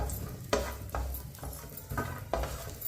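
Dry fruits being roasted in a pan over a low flame for sweet seviyan, with a soft steady sizzle and several scraping stirs of a spoon against the pan.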